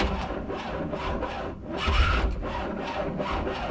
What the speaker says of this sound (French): Le démarrage tourne tellement doucement.